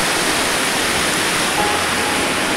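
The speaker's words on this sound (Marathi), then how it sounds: "ही आमची सूक नदी" Steady rushing of the Suk river beside an old village bridge on a rainy day, a continuous dense wash of flowing water heard close and loud, with no talking.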